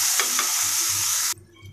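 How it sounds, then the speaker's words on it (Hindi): Finely chopped tomatoes sizzle and get stirred in a pan while cooking for macaroni, with a couple of soft scrapes early on before the frying hiss cuts off abruptly near the end. "अब इसमें हम बारीक कटे हुए टमाटर डाल देंगे। इसको भी हम अच्छे से मिला देंगे, इसको 1 मिनट के लिए ऐसे ही भूनेंगे।"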